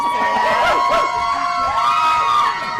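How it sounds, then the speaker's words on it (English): A live audience erupts into shouting and cheering at a debate-style show, a steady, loud crowd roar with overlapping voices and whoops throughout. "The crowd has turned into Jerry Springer up in here."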